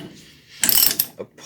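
A ratchet clicks briefly while a brake caliper is unbolted and taken apart, a short close burst of metallic ratcheting followed by a single softer clink.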